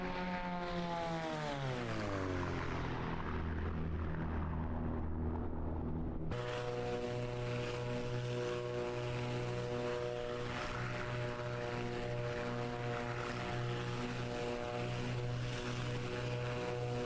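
A Beechcraft BE58 Baron twin-engine propeller plane in a flight simulator game holds a steady, loud, droning engine hum with strong tonal whine; the pitch sweeps downward early, then jumps up and stays constant, with no voices.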